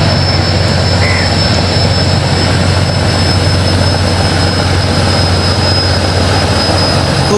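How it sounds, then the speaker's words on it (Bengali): The passenger launch MV Manik 1 pulls away from the Fatullah river terminal. A loud, steady engine drone and broad rumble fill the whole stretch without letup, with no voices over it. "দেখতে পাচ্ছেন এই মুহূর্তে আরও একটি লঞ্চ ছেড়ে যাচ্ছে ফতুল্লা থেকে এমভি মানিক 1।"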